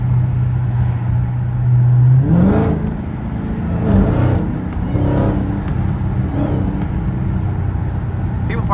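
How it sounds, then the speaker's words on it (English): A Dodge Charger Widebody Hellcat with 717 hp drives with the windows down. A low engine drone rises into a whining pitch, then turns to a steady, close rumble with brief whooshing surges. No one talks. "Maybe you can hear the whine a little bit better."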